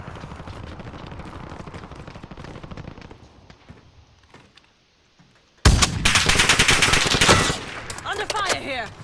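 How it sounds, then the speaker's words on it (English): Rapid automatic gunfire in the Call of Duty Warzone video game, loud and sustained bursts that start abruptly after quieter game sounds and voice chat, with continuous shots and explosions near the end. "Taking active fire. I'm getting shot from the right"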